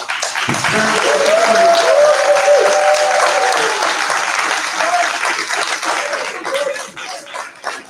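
Steady applause from a crowd at a third-grade school ceremony fills the space, loud and sustained, with a voice briefly heard through it before the clapping thins out at the end.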